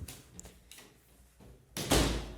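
A door opens as someone comes back into a room from the kitchen, a soft thud and then a louder, breathy rush of movement near the end, close by, with faint room tone before it.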